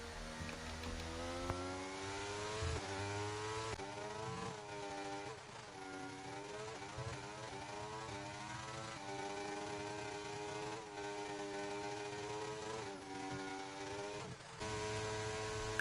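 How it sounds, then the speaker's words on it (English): A Williams Formula 1 car in the F1 23 racing game screams past on the Zandvoort straight, a loud, continuous high-revving engine whine with rising and falling pitch as gears shift, no talking. "the Williams behind us on hards is flying past us down the straight"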